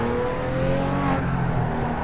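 RUF race cars running at Twin Ring Motegi in the iRacing simulator, with cars sliding off the track: a loud, steady engine drone with whining tones, shifting pitch partway through.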